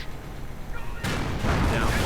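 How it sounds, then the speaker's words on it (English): Artillery fire in a World War II strategy game, a sudden heavy boom that breaks in halfway and rolls on as loud, dense rumbling and crackle after a quieter stretch of battlefield noise. "Artillery getting called in."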